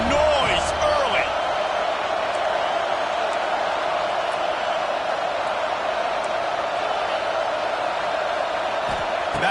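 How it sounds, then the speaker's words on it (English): A stadium crowd at a football game produces a steady, loud wash of cheering and roaring that continues unbroken throughout, with occasional sharp thuds and a commentator speaking over it. "This crowd bringing the energy and noise early."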